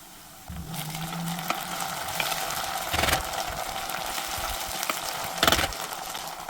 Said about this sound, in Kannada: ಈಗ ಶುಂಠಿ ಬೆಳ್ಳುಳ್ಳಿ ಪೇಸ್ಟ್ ಹಾಕೊತಾ ಇದ್ದೀನಿ